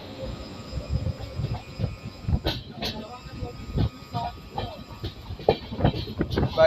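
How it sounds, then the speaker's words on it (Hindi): A freight train hauled by a WAG-9 electric locomotive rolls past at moderate distance, with uneven wheel clatter, hiss and faint squeal under the sound of a moving passenger train, with no talk. "बाकी ये मालगाड़ी है वेग 9 लोकोमोटिव के साथ"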